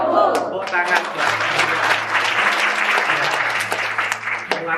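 A church congregation of women claps in a continuous burst of applause during a sermon service, the clapping steady and close, while a voice speaks over it.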